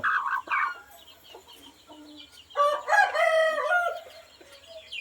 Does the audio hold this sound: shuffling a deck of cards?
no